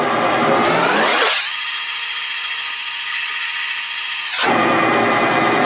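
A tube bending machine runs loudly while it tightens onto a metal tube: a steady whining motor drone that ramps up, holds flat for a few seconds, then winds back down, with no talk.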